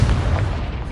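Confringo spell blast in Hogwarts Legacy, a short heavy boom with deep rumble filling the brief moment, loud and close.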